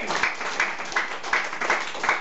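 A church congregation breaks into applause, a soft, fairly distant patter of many hands with rhythmic swells over a short stretch, a voice faintly present beneath.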